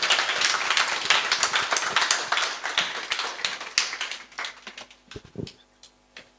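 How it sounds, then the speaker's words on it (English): A round of applause from a crowd, dense steady clapping that thins out toward the end into a few scattered claps. "So please, a round of applause for Architect Bishop Oginde."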